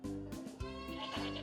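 Young goats on a dairy farm bleat loudly and continuously at close range during bottle feeding, several overlapping cries rising and falling over a steady pen background.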